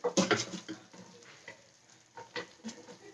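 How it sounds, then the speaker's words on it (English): Eggs frying in a small pan for an egg and tomato bake, a soft scattered sizzle with a few sharper stirring or utensil sounds, fairly quiet. "My eggs are now in my pan, and I'm just letting them cook out."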